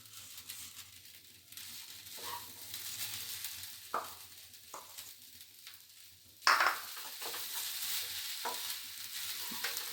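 Grated coconut and patali jaggery stirred in a hot pan, soft scraping and gentle sizzling with scattered spoon knocks and one sharper clatter partway through, close and fairly quiet, with no voices.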